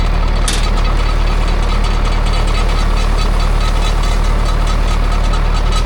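A farm tractor used for chopping corn runs steadily at close range, its engine a loud, continuous low drone with a brief knock as it is put in gear.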